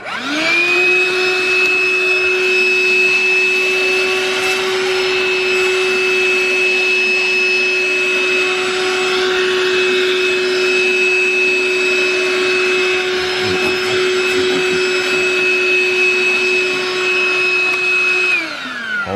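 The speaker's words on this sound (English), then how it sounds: "we're going to turn the vacuum on and we're just going to clean all the dirt around it" Vacuum cleaner running steadily at close range while it cleans dirt from around the hybrid system intake filter of a Toyota RAV4 Prime, a constant whine with a strong steady tone, switching on at the start and winding down at the end.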